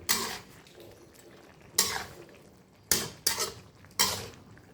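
Catfish pieces tossed with seasoning powder and herbs in a bowl, giving a few distinct clattering, scraping bursts of utensil against dish spaced irregularly, close and fairly quiet with no talk.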